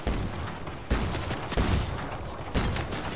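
Rapid bursts of gunfire crackle in a video game, several loud volleys in quick succession with sharp onsets spaced about a second apart, and no talk over them.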